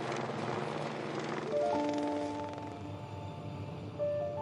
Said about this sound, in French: l'hélicoptère quitte le chantier.